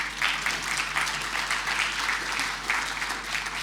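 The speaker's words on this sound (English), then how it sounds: "Kane Williamson, I'd like a round of applause." An audience at a talk on the future of Auckland and housing density applauds on cue, a steady wash of many hands clapping at moderate level from start to end with no voices over it.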